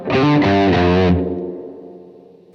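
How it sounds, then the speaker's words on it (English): An electric guitar through a Flattley DG Fuzz pedal into an amp set on the edge of breakup plays a few thick, saturated fuzz chords up close, then rings out and decays. "We can check out how the DG Fuzz sounds into, you know, this way of setting your amp"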